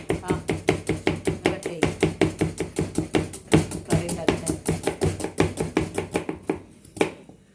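Rapid, steady knife chopping on a board, probably onions for a chicken curry, a near and loud even rhythm of sharp strikes that slows and stops at the end.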